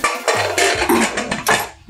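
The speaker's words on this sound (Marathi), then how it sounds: "कुकरचं झाकण लावते" A metal lid is set onto a pressure cooker holding water and dry-roasted mung dal in a home kitchen, giving a few close metallic clanks and scrapes over about two seconds, with no talking.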